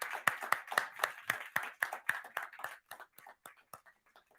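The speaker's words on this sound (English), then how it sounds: "let's give a round of applause for our judges, Kaisa, Arnie, and Toya" Scattered hand claps from a small audience applauding hackathon judges at an AEC event in Helsinki, a dozen or so distinct claps in an uneven rhythm that thin out and fade toward the end.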